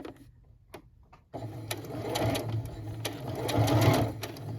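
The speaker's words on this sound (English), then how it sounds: "I'm going to do a reverse stitch just to the corner" A domestic sewing machine stitches the corner of a fabric napkin with a steady, close whirring run of stitches that grows louder toward the end, after a few quiet clicks at the start.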